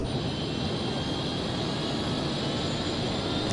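Loud, continuous engine roar with a steady whine, like an aircraft engine droning close by without pause, from the Ultraman Mebius TV series.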